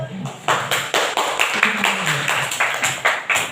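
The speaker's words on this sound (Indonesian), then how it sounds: "Tepuk tangan dulu." A small group claps in a steady, even rhythm, close by, after classroom group presentations, with a voice briefly audible at the start.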